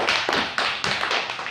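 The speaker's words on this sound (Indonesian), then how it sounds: "Ya, tepuk tangan dulu untuk kelompok 1." Students in a classroom clap for a group, a short burst of a few distinct, fairly close claps in a loose rhythm, brief and unaccompanied by talk.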